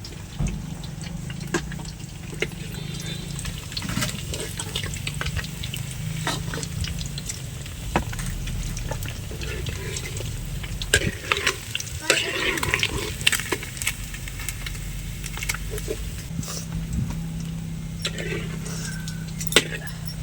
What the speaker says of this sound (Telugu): చూసారా చేపలు అయితే ఎలా అయితే కాలిపినాయో.